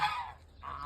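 Domestic geese walking back toward their shed on a farm give two short, loud nasal honks close by, separated by a brief pause.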